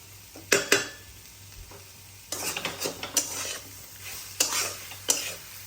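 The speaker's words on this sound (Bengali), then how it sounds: "খুব গরম দেখো আস্তে আস্তে করে নেড়ে চেড়ে একটু আঁচটাকে বাড়িয়ে দিলাম" Egg, potato and onion fry in a very hot pan on a raised flame while a utensil stirs them, giving bursts of scraping and loud sizzling in uneven clusters, close up with no talk.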